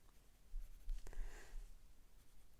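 A pen or pencil marks trim points on vellum in a few brief scratchy strokes, faint and close, with no voices.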